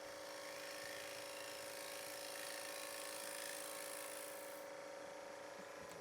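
Scraper cutting a maple bowl on a spinning wood lathe, a steady rough rasping hiss over a constant motor hum, close and continuous, easing off near the end.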